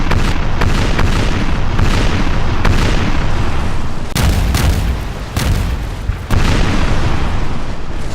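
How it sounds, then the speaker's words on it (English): Continuous naval cannon broadsides in the Napoleon Total War sea battle game, warships firing round shot and chain shot in heavy booming volleys with sharp blasts punctuating a dense, loud rumble throughout. "Non-stop firing, broadsides everywhere."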